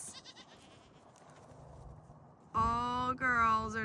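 Goats on a farm being moved ahead of spring breeding: after quiet, low background, loud, close, wavering bleats break out and overlap near the end.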